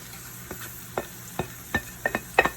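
Chopped ginger, green chili and spices for a samosa filling being stirred in a pan on the stovetop: a string of distinct scraping stir strokes over a faint sizzle, growing more frequent toward the end, no talking.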